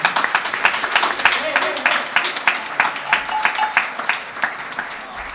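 Concert audience at a school dance orchestra performance applauds a band member, loud and sustained clapping from many hands that grows into a more rhythmic, distinct pattern toward the end, with some voices in the mix.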